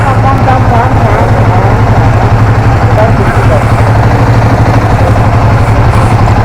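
A motorcycle engine runs steadily on a road trip, giving a loud, continuous, close rumble that stays even throughout without pauses.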